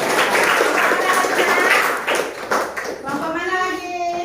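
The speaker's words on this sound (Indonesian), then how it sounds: "Udah, tepuk tangan buat kelompok bumi." A classroom of students applauding a group of classmates, steady clapping from many hands blended with children's voices, fading as a teacher starts talking near the end.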